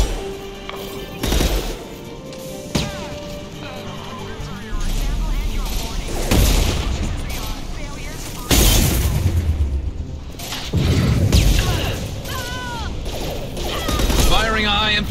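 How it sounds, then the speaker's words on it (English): Heavy high-impact gunshots from the sci-fi shooter Mass Effect 2, several booming blasts spaced apart with sharp cracks between them, loud and close amid game noise. "Firing a high-impact shot."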